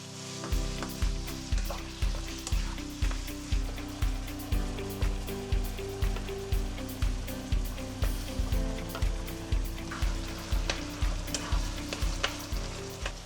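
Meat fries and sizzles steadily in a pan, with a regular rhythm of stirring scrapes throughout, close and fairly loud with no talking.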